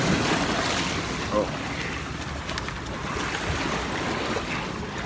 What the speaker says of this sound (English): the waves are coming up from a ferry